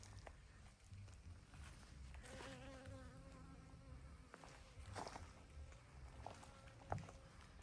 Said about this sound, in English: Do you hear it? They're pollinating. The little bee pollinating all the little flowers.